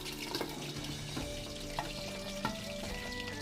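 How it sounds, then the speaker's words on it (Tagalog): Chicken feet frying in hot oil for dim sum, a steady close crackling sizzle with scattered pops and spits running throughout, no voices. "ilagay natin sa mantika at ito po yung ating piprituhin."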